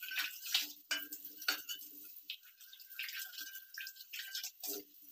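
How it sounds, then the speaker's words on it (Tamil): Plain water splashes and drips while a cast iron kadai is washed by hand, heard as close, intermittent trickles, drips and light metallic clinks over a quiet background. "நல்லா கழுவி எடுத்ததுக்கப்புறமா கடாய் இதே மாதிரி கழுவி எடுத்துக்கிறேன்."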